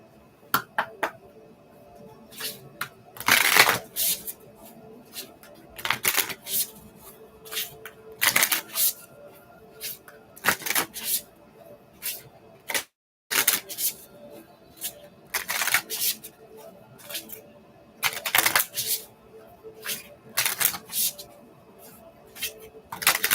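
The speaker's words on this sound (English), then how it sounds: "Okay, let's shuffle 21 times." Tarot cards are shuffled by hand in repeated short riffling bursts separated by brief pauses, crisp and close, running steadily throughout.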